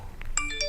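A short phone notification ringtone, a quick pair of bright electronic chimes, close and clear with no talk.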